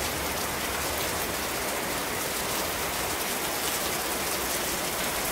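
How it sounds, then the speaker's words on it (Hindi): Heavy rain pours down suddenly outdoors, a dense, loud, steady hiss of drops on surfaces that continues unbroken with no voices. "बहुत बारिश हो रहा है अचानक से।"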